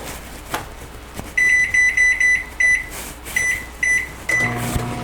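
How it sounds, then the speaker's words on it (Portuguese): A microwave oven set to medium power for about thirty seconds while melting a small amount of white chocolate gives a run of repeated electronic beeps over a steady background hum. "Então eu vou derreter ele aqui no micro-ondas"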